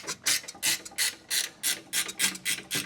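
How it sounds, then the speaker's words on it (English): A wrench ratchets on a V-band exhaust clamp while removing a Motordyne exhaust from a Nissan 370Z: a steady series of about a dozen rasping metallic clicking strokes, close and fairly loud, with no talking. "this one we're going to use a wrench on because of the angle of the V-band clamp"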